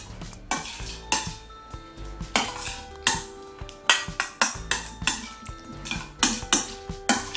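A spoon mixes sliced red onion into a salad dressing in a bowl, producing rhythmic clinks and scrapes against the dish, repeated roughly twice a second, close and without speech.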